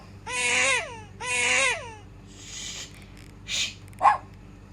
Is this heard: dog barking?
yes